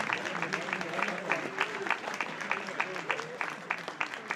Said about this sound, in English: one more time, a round of applause for our Deputy President, Honorable Paul Mashatile